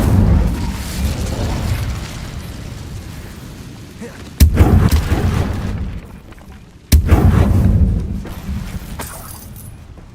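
In the game Hogwarts Legacy, an Incendio fire spell bursts with two sharp, loud whooshing blasts a few seconds apart over a rumbling battle background; no one speaks.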